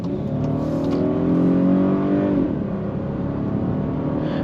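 A 2023 Volkswagen Atlas SEL V6 AWD accelerating, its engine revving smoothly with rising pitch, then a shift and a steady pull, heard loud and steady from inside the cabin.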